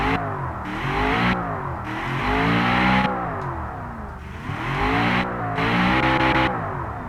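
A Merican luxury cruiser car engine in the Automation car-building game revs repeatedly, climbing in pitch and dropping back in three swelling cycles. The loud, close engine tone stands alone with no voices.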